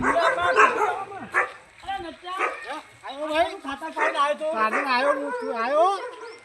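A dog barks and yelps in quick bursts, mixed with whining, howl-like cries, loud and close.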